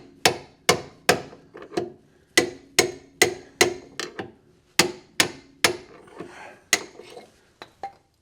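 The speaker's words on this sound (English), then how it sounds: "the rubber bushing and sleeve up in here, which I might now be able to hit out with." Sharp metal hammer blows drive a rubber idler arm bushing and sleeve out of a Mercedes W126 with a 16mm drift, about sixteen loud ringing strikes in an uneven rhythm with brief pauses, close and alone.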